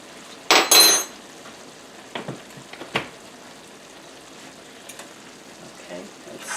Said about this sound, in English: Okay, let's stir all that in.